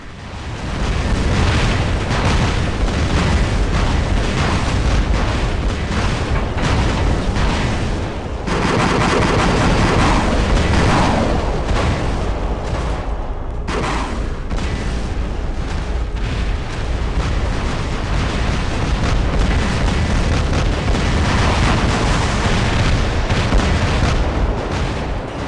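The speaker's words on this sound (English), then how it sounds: "I'm trying to dodge all these rockets here." Rockets exploding in a multiplayer shooter game, a dense, loud, continuous barrage of blasts and gunfire with barely a pause, one brief dip partway through, no voices.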